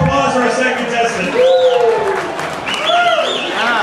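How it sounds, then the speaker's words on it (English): A party audience applauds and cheers for a game show contestant, a short burst of clapping and whoops mixed with excited voices. "Give a round of applause for our second contestant."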